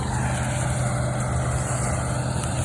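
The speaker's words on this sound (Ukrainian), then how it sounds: "Почалися в мене жнива. Комбайн молотить." A combine harvester threshing soybeans in the first pass of a harvest drones with a dense, constant engine and machinery roar, loud and close, with no breaks and no talk.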